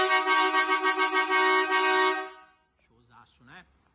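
Dual marine air horn fitted to a Fiat Doblo blasts loud and steady for about two seconds with a rich, trumpeting tone, then cuts off as a voice follows.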